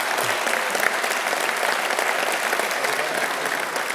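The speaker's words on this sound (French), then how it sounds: "Vous pouvez l'applaudir." A dense, steady wash of audience applause from a crowd at a farewell ceremony, loud and sustained throughout with no pauses.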